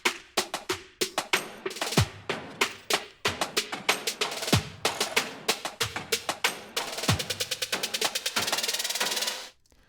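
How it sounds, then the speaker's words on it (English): Layered drum build samples run through the Endless Smile plugin on a drum bus, a fast series of loud, punchy hits that accelerate into a dense roll while a swelling reverb effect rises to a bright wash before cutting off abruptly. "that rising effect you're hearing is coming from this plugin called Endless Smile"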